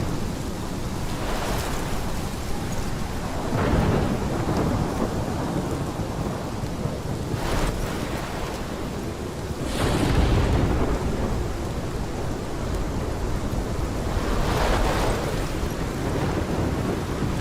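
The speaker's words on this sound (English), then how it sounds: "This is my storm." Thunderstorm with steady heavy rain in Life is Strange Remastered, a constant loud wash of rain broken by several rumbling thunder rolls, with no talking.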